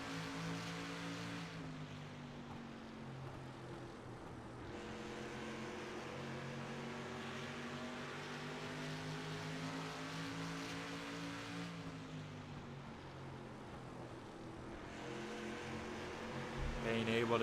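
Street stock race cars in a sim racing game at New Smyrna roar steadily around the track, several engines droning and shifting pitch together as they battle side by side, loud and continuous throughout.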